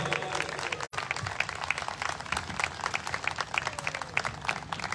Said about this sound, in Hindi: हम सब जोरदार ताली बजाएंगे उनके स्वागत के लिए